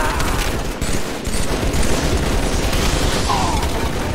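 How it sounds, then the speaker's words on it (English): Dense, continuous machine gun fire in a chaotic video game battle, loud and rapid with booming impacts layered throughout, the burst running nonstop for several seconds. "Damn, the machine gun's too strong."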